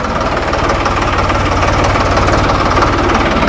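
A Suzuki Hayabusa motorcycle engine idles steadily and loudly up close, its rapid low pulsing running evenly throughout with no voices.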